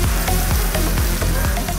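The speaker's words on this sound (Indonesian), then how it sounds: "Salah satu yang paling unik adalah proses menggoreng tahu sebelum disajikan bersama kuah kacang." Tahu siksa tofu frying in a very small amount of oil, a dense, steady sizzle with rhythmic scraping or stirring strokes about every quarter second, loud and close, with no voices.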